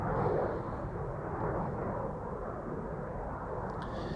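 A TUI Boeing 787 Dreamliner departing Amsterdam Schiphol roars with a broad, steady jet rumble, loud and continuous, heard from outside with no voices.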